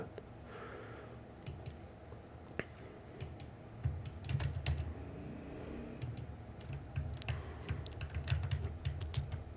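Computer keyboard being typed on while modeling in Blender, with shortcut key presses producing sparse, quiet clicks and taps in irregular bursts against a soft background, no talking.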